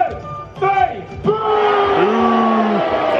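Crowd at a War of the Roses show at Warwick Castle yelling and cheering together on a count of three, a loud sustained roar of many voices after a brief spoken countdown.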